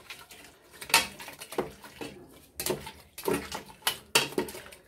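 Mutton trotters being stirred with water in a pressure cooker, giving several spaced clinks and scrapes of a utensil against the metal pot, with soft sloshing between knocks and no talk.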